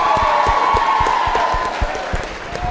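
A studio crowd at a talk show cheers, whoops and claps for the women guests, a dense steady roar of mixed voices and scattered hand claps that stays loud throughout.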